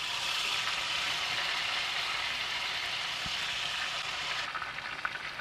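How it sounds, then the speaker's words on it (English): Pork belly frying in a hot frying pan for pork belly tacos, giving a steady, loud, close hiss of sizzling fat that runs without break and eases slightly near the end, with no voices. "I'm gonna take the pork belly and I'm going to put it in the frying pan"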